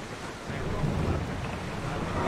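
Sailing ship getting under way at sea in the video game Assassin's Creed Odyssey: a steady broadband rush of wind and water that swells slightly after the first half-second, with no clear voices.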